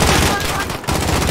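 Call of Duty video game gunfire, a dense rapid burst of shots that stays loud and close with a brief dip partway through and speech mixed underneath.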